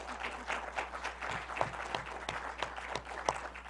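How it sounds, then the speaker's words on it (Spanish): At a lecture welcoming a UNAM researcher, the audience claps for him, a fairly quiet, thin round of applause with distinct individual claps standing out. "Un fuerte aplauso para el doctor Navarro, por favor"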